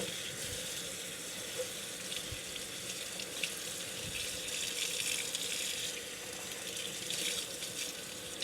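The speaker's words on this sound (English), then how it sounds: "I'm just gonna put it under cold water in my sink and rinse it" Cold tap water runs steadily into a kitchen sink over a lump of homemade butter being rinsed and moved around by hand, a continuous splashing hiss with small shifts as the stream hits the butter.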